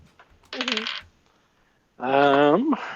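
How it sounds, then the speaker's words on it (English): Dice rattle and clatter as they tumble out of a bag during a tabletop roleplaying session, two short bursts of clicking near the microphone, with a brief voiced sound over the second burst. "my dice from the bag, in case you're wondering why that noise"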